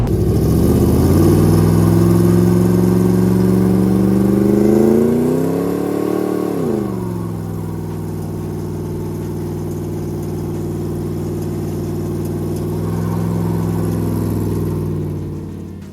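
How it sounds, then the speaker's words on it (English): A car engine revving hard and loud during a burnout attempt at a custom car build shop, a sustained high roar that climbs, dips sharply, then settles into a steady drone before swelling again, no voices. "Now we got to see if it'll do a burnout."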